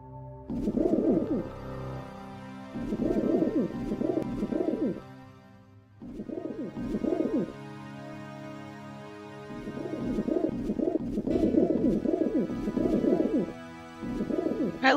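Pigeons coo in bursts of soft, rolling low calls, several phrases in a row with short pauses between, set against a quiet ambient music bed in the game Deus Ex.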